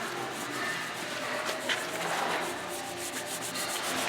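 A thick, batter-like paste is rubbed by hand into a countertop base before staining, making a steady, close, gritty scrubbing and rasping sound with no talking.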